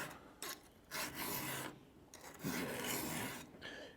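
A hand file rasps across a chainsaw chain's cutters to sharpen it, several distinct back-and-forth strokes in close succession, close and fairly quiet, with short pauses between.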